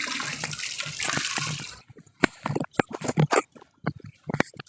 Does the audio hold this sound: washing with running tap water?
yes